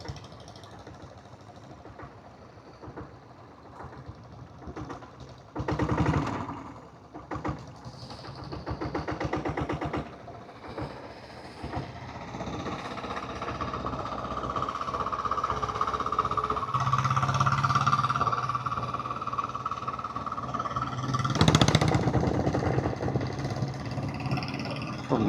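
A diesel Royal Enfield Bullet motorcycle runs downhill on a hill road, its engine thudding steadily at low revs under wind noise, with brief louder bursts along the way.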